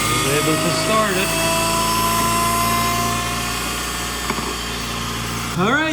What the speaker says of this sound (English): My car is running